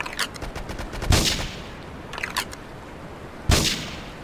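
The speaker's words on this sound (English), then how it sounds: "Investigate reports of gunfire and explosions." Bursts of rapid gunfire in the video game GTA 3 crackle at a distance, with two heavier booming shots standing out between the volleys.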